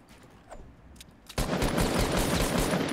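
Rapid gunfire from a Fortnite match, likely pump shotgun and SMG shots, bursts suddenly to full loudness midway and continues as a dense, continuous volley with no voices over it.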